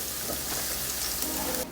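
Chopped garlic hits hot canola oil in a pan and sizzles with a steady, dense crackling hiss that stays fairly even and close for the brief moment.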